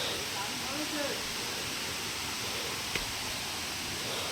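Rushing waterfall in a wild spot in Odisha, heard as a steady, dense broadband roar filling the whole clip with no break, close and fairly loud, with one brief sharp tick near the end.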